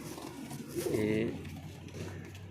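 A teddy pigeon gives a soft, rolling coo once, close by, over a low background hum and faint voices.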